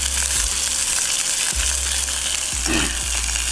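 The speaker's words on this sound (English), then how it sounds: "I'm gonna go ahead and get a good sear on this." Beef short rib searing in sesame oil gives a steady, close sizzle with occasional low thumps as the meat is moved in the pan.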